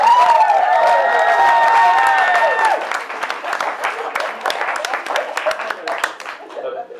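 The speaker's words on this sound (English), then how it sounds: "Big round of applause." Wedding guests break into applause, a loud burst of clapping and some cheering that follows a few sustained tonal notes, then thins into scattered, uneven claps toward the end.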